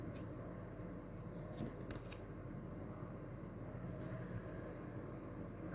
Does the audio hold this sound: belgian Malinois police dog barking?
no